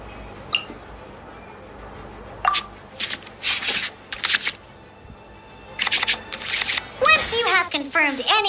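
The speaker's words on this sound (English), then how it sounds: "we can select any number of cards in our hand to shuffle back into the draw pile" Cards shuffle back into the draw pile in the Genshin Impact card game: a run of soft swishing, rubbing bursts, then brighter chiming game tones.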